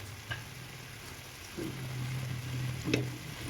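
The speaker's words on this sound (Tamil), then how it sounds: "ஆட் பண்ணிவிட்டு ஒரு லோ ஃப்ளேமில் வச்சு ஒரு 2 நிமிஷம் இதை அப்படியே ஃப்ரை பண்ணுவோம்" Chicken pieces frying in a pan over a low flame, a soft steady sizzle with a low hum beneath and a couple of brief clinks, no voices.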